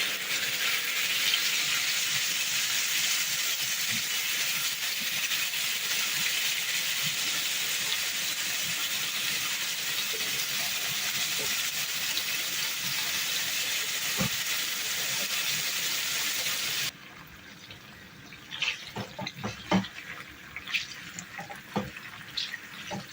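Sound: cut meat browning in a pan over high heat

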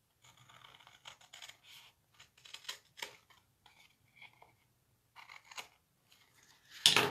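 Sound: trimming paper card with scissors

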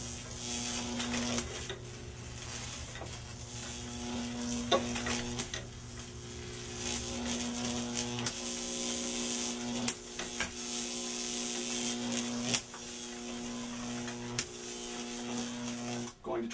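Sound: Jacob's ladder high-voltage electric arc with neon bulb

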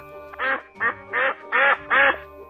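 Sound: ducks quacking

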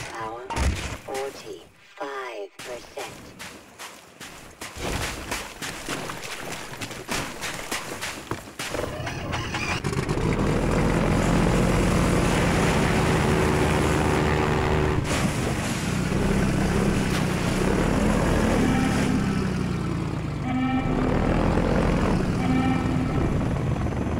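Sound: helicopter in video game Half-Life 2

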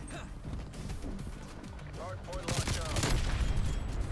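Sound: pistol gunfire in Call of Duty video game

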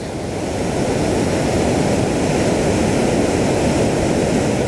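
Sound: waterfall

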